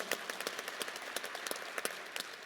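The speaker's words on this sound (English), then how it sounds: "Give them a warm round of applause" An audience applauds at a university press event introducing Alabama A&M's new head football coach, a quick run of moderate, fairly distant hand claps lasting a couple of seconds.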